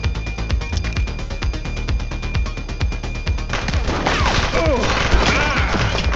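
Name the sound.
gunfire in the video game The Precinct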